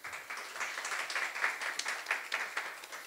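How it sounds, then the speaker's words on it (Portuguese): An audience at a panel event on Rio tourism and the creative economy applauds, a faint, steady patter of many hands clapping at moderate distance. "Uma salva de palmas."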